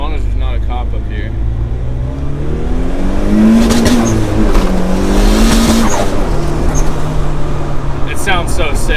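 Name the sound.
turbocharged Honda Civic accelerating at full throttle on boost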